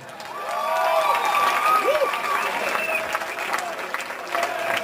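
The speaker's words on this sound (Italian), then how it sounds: "fategli un applauso!" Audience applause rises and holds as a dense, loud clapping wash from a live crowd at a memorial event, with whoops and cheers over it throughout.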